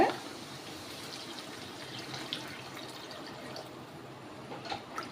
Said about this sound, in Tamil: இதில் ஒன்றரை கப் தண்ணி ஆட் பண்ணிக்கோங்க